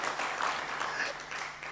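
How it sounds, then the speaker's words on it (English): An audience at a manufacturing forum claps steadily, a dense wash of applause from many hands heard alone and fairly close throughout. "let's clap"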